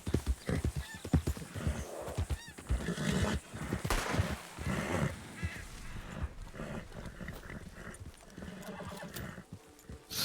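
A horse in a video game whinnies and clops its hooves near stables, with busy, loud clip-clop footfalls and neighs layered over a cluttered ambient background.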